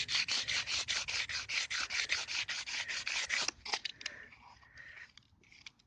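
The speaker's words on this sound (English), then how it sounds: "I've got the rougher sandpaper here first, just to get the majority of the actual out of it." Coarse sandpaper rubs kerb rash off a car wheel trim in fast, rhythmic back-and-forth strokes, loud and close for about three seconds, then it slows into scattered lighter scrapes.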